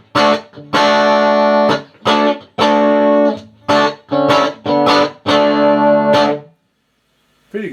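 A 1971 WEM ER40 amplifier carries a clean electric guitar with little distortion, heard as a series of strummed chords and ringing phrases with short pauses between them, loud and close, with no voices.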